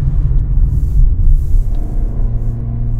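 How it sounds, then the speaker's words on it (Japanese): A Suzuki Fronx 2WD with a six-speed automatic pulls hard uphill out of a curve on a mountain road, its engine rumbling low and steady as the revs climb over three seconds, heard from inside the cabin. "CVT よりダイレクトにエンジン回転が上がってくるのが 6AT という感じで面白いです"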